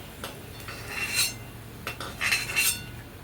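Fried bitter gourd pieces are lifted from a pan with metal utensils, giving a few light clinks and scrapes against the pan over a faint background hiss, close and without talking.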